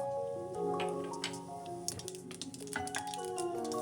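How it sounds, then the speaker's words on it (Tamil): Mustard and cumin seeds splutter and pop in hot coconut oil, a run of close, crisp crackles and ticks over a low background hum. "கடுகு சீரகம் பொறிஞ்ச உடனே"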